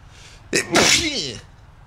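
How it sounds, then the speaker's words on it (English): A single sharp human sneeze bursts out after a brief quiet lead-in and is followed by a short trailing vocal exhale, loud and close against a low background hum during a War Thunder tank match. "I gotta sneeze, I'm sorry"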